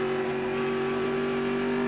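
A NASCAR stock car roars along the track, a loud, sustained engine drone with strong steady harmonics heard close and constant for a moment.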